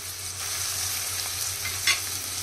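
Ginger, green chili, garlic and onion frying together in hot oil in a pan for a Manchurian gravy, giving a steady close sizzle with light stirring scrapes and one brief louder clatter near the end.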